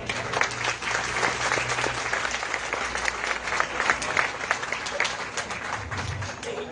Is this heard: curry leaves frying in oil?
no